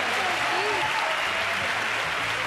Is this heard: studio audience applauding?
yes